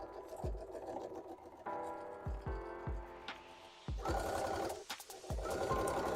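Sewing machine stitching the ears of a fabric Pokemon hat, running in short bursts with pauses, a steady mechanical hum and repeated low thumps close by.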